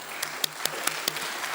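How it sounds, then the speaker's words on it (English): Applause for a speaker at an academic research talk, with a few distinct sharp claps in an uneven rhythm over a thin, low background. "please join me in giving the first round of applause to Jing"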